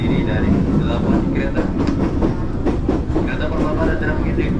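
Inside a Jakarta commuter train (KRL) rolling along the rails from Tanjung Priok to Jakarta Kota: a loud, constant low rumble with faint rhythmic clatter and a muffled voice announcement over it.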